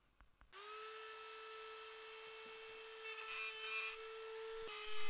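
A Dremel rotary tool whines steadily while carving excess PVC from a DIY arrow nock on the shaft, a close high-pitched motor drone with faint grinding that rises slightly toward the end.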